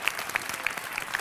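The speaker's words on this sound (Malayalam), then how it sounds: "കൈയടിച്ചോളൂ, കൈയടി, കൈയടി പുറത്ത്" Audience applause at a Malayalam TV comedy show, a dense, steady patter of many hands clapping together for the whole short stretch, fairly close, with no talk over it.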